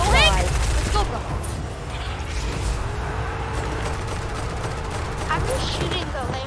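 Rapid bursts of video game gunfire in Fortnite Zombie Island, loud and sustained fusillades with mechanical clatter, while players chatter over the shooting.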